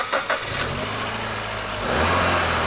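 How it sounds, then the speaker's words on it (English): Mitsubishi Evo with a 2-litre turbocharged engine, about 291 horsepower, revving: a short burst, a steady mid-pitched run, then a rising rev close by, alone with no voices. "The 2-litre turbocharged engine is, in a word, a blinder."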